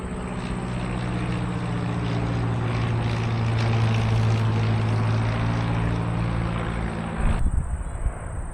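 A propeller aircraft drones steadily at a busy airport, a loud, constant engine hum held for several seconds before the sound shifts abruptly near the end, with no voices.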